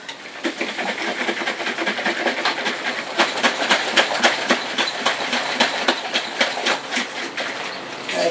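Cream is shaken hard in a jar to make butter, with a loud, close, continuous rhythmic sloshing and rattling that pulses steadily throughout.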